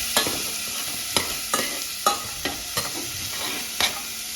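Onions fry in a pan, a soft continuous sizzle broken by a series of sharp scraping clacks as a utensil stirs them at irregular intervals.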